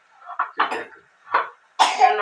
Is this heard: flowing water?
no